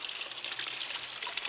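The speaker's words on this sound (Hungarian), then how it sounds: "A tó az csobog." Lake water trickling and babbling through a filter, a soft, steady splashing burble heard faintly and alone.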